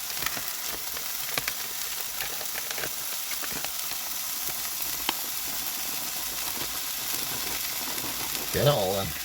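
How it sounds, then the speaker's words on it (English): Rice heats in a frying pan on a car-camping stove, a steady close sizzle and crackle with scattered stirring scrapes, swelling into a louder burst near the end. "So we'll get our rice on top, get it heated up slightly."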